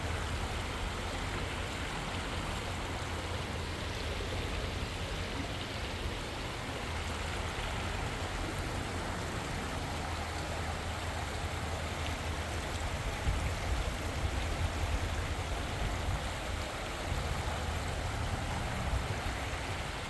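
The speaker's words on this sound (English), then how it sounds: "You have plenty of running water here." A stream runs steadily near a bridge-collapse site at Ashtabula, giving a constant broadband hiss and burble of flowing water at moderate level, with no voices for the whole stretch.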